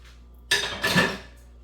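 A mixing utensil used for pound cake batter is dropped into a kitchen sink, giving a short clatter of metal against dishes followed by a second, louder rattle, close by and with no talking.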